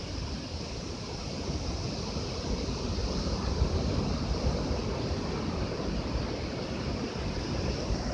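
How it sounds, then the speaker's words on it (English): Ocean waves at night, a continuous broad wash of surf and rushing water, fairly loud and steady with gentle swells and some wind noise, with no one speaking. "it's just so gorgeous to listen to the messages of the waves"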